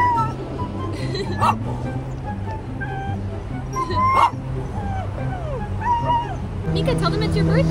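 A small dog yips and barks in short bursts, with whimpering in between, close by while people talk and coo over it.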